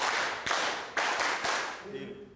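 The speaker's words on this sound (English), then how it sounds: "The clapping seals the deal" Clapping seals a vanilla price deal in Madagascar, a few loud, close, dense bursts of hands clapping together, separated by brief gaps, fading into quieter background voices at the end.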